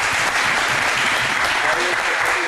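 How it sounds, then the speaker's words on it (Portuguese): Audience at a women's prosecutor's office seminar bursts into sustained, dense applause, steady and loud throughout with a faint crowd murmur underneath. "Uma salva de palmas"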